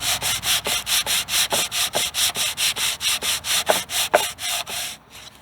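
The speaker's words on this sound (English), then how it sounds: "We got a little bit of sanding to do," Construction-grade plywood is sanded by hand with very coarse 60 to 80 grit paper in quick, even back-and-forth strokes, about four per second, loud and close, ending abruptly with no talk.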